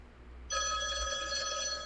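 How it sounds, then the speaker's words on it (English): A phone starts ringing with a bright electronic ring tone that cuts in suddenly and holds steady, fairly close, with no talk over it. "who calling my phone?"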